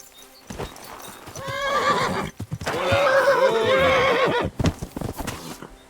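A horse whinnies loudly in two long, wavering bursts in Kingdom Come: Deliverance II, with clopping hooves and some background game sound around them.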